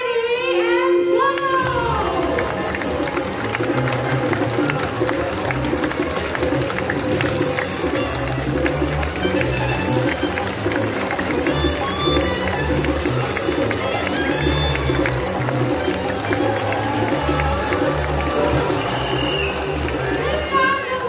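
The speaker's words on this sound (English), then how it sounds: "Peanut supporters, you have to cheer even louder this time" A crowd cheers loudly and without a break at a bird race show at Jurong Bird Park, Singapore, with voices calling out over the steady roar.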